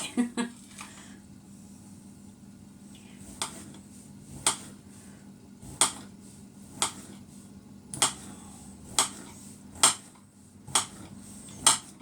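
A knife slices cabbage on a board for a Moroccan salad, a series of sharp, crisp chops spaced irregularly then faster, close and clear over a low steady hum.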